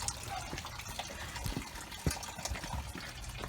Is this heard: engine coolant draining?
yes